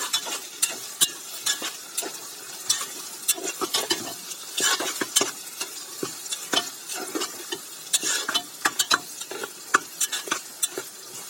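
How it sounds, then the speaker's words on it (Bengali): Crushed ginger and garlic paste fries in a pan while a utensil stirs and scrapes repeatedly, making quick irregular clacks over a light, crackling sizzle. "আদা রসুনের কাঁচা গন্ধটা যাওয়া পর্যন্ত ভাজবো"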